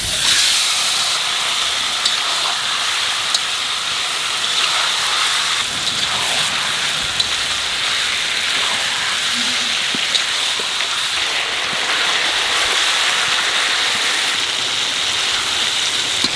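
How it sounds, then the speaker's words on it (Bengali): Boal fish frying in a pan with onion and green chilli gives a steady, loud hiss and sizzle with no break. "মাছটা একটু কষায় নিছি"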